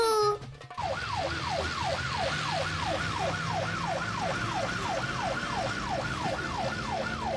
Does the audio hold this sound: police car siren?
yes